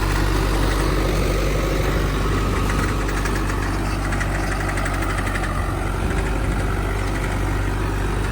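An Indofarm 3055 tractor engine runs at around 1500 to 1600 rpm nearby, a loud, even diesel throb with a constant knocking pulse and no pauses.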